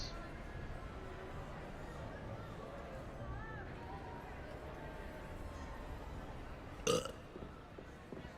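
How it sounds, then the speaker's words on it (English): A character in the video game Hogwarts Legacy lets out a single loud burp near the end of a stretch of quiet crowd murmur and ambient game noise. "Why does this guy keep burping?"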